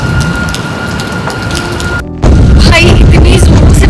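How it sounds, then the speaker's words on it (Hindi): Heavy rainstorm with strong wind, a loud steady roar of rain and gusts that briefly cuts out, then returns even louder and closer with rumbling thunder mixed in. "बहुत ज़्यादा बिजली कड़क रही है, हवा चल रही है"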